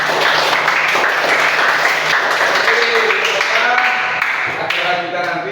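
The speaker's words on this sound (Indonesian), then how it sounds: "Oke, tepuk tangan kita semua." A room of schoolchildren at a Pancasila gymnastics event claps together, loud, dense applause mixed with voices and chatter, tapering slightly toward the end.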